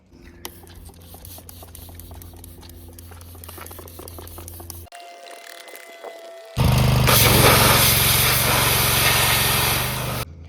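A pressure washer blasting paint stripper and old paint off the frame of a cheap mini bike during restoration, a steady engine-driven drone that turns sharply louder and harsher for the last few seconds after a short quiet gap.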